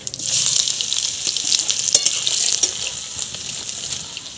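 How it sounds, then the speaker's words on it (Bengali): Chopped garlic frying in a spice tempering of whole cumin in oil over a wood fire, a bright steady sizzle with sharp crackles and spatula stirring, no voices. "রসুনটাকে হালকা করে ভেজে নিচ্ছি"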